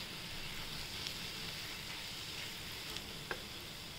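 A vegetable bhaji sizzles steadily in a pan, a soft, even frying hiss with a few faint clicks and scrapes of stirring, with no voices.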